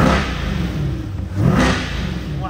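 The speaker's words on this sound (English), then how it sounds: "give it a couple revs" A 2023 Corvette C8 70th Anniversary Edition Z51 engine revs up loudly, a low throaty roar rising and falling a couple of times, close by with no talking.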